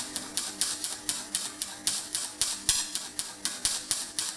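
A Repco 180 amp multi-process MIG welder with the wire speed set too slow makes an intermittent weld. It gives steady, evenly spaced crackling pops, about three per second, at moderate level with no talking.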